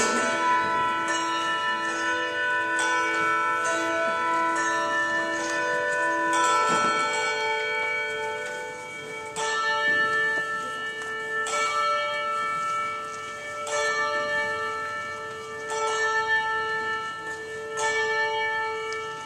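Church bells chime the hour before a worship service, several clear struck tones ringing out in sequence and overlapping with long sustained decays, moderately loud and alone without talk.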